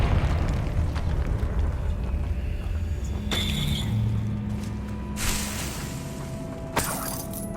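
Confringo explosive spell cast in the game Hogwarts Legacy: a rumbling, crackling burst under a low steady game soundscape, followed by sharp bright blasts and debris-like crashes toward the end, loud and near.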